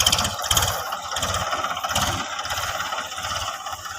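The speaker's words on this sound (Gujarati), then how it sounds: "મારા કાકાએ પાછું ટ્રેક્ટર વાળી લીધું છે" A desi tractor engine runs steadily as the tractor turns, giving a loud, close, rhythmic low chugging with a faint rattle throughout.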